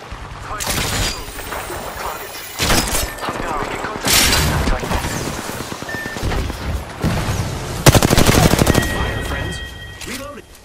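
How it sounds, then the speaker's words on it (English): In a squad-based battle royale video game, gunfire aimed at the player comes in loud, repeated bursts of rapid shots, with booming impacts between volleys. "Getting shot at."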